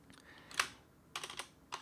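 Computer keyboard keys clatter while a Minecraft command is typed in: a sharp single tap, then two quick bursts of several clicks, close and fairly quiet.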